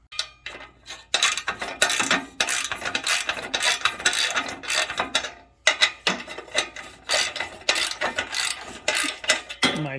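A ratchet wrench turns loose three bolts holding a car's muffler, giving steady rapid clicking runs broken by short pauses, close and fairly loud, with no voices.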